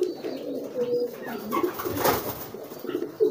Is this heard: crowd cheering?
no